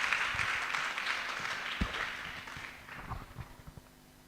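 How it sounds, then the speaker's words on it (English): Quiet audience applause at a lecture event in Kumasi, scattered claps thinning out over a few seconds, with some isolated louder claps and faint shuffling noises. "Shall we give him a hand of applause?"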